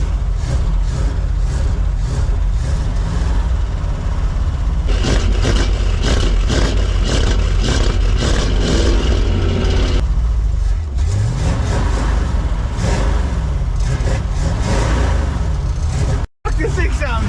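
A 1978 Ford F-350 truck engine runs loud and close with a steady low rumble, rising in tone midway, while people talk over it.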